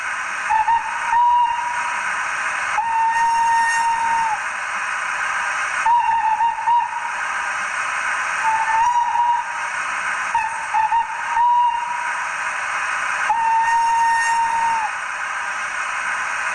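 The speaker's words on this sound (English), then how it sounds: "so you get 8 types of whistle on it" A model locomotive's sound function sounds a tonal whistle in repeated blasts of varying length over a steady hum of running noise, close and fairly loud, with no talking.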